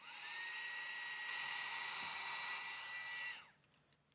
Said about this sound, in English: just use your embossing tool to melt that powder, same way as we did with the flowers